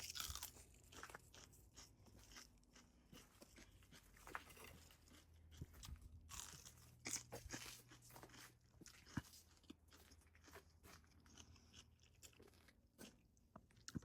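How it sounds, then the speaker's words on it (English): Fresh celery picked from a winter garden is crunched and chewed close up, with steady crisp bites and chewing repeating over a long stretch outdoors, alone and without talk. "crunching while I have a garden snack."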